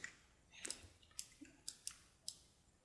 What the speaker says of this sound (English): I can just double click on that